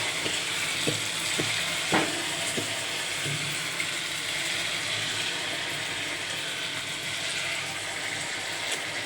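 Onion and cumin seeds frying in a pan give a steady, dense sizzle with a few sharp scrapes and taps of a utensil early on, close and alone with no voices.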